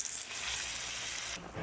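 Water poured into a pan of sizzling beef with garlic, onion, pepper, salt and tomato paste, giving a steady loud hiss and sizzle that flares briefly at the start and drops off near the end.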